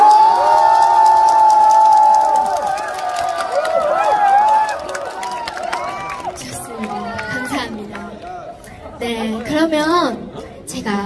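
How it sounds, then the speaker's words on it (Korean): An outdoor concert crowd at Tangeumho Lake cheers and applauds, with loud shouts and high voices over a sustained roar that thins out, then swells again briefly near the end. "박수와 함성!"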